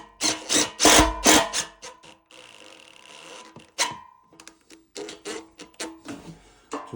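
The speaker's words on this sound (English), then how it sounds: "So you put two screws in it." Screws are driven with a power driver into the base tray of a VW T6 Jennings seat base, a whirring burst in the middle between sharp knocks and handling clatter from the fitting work.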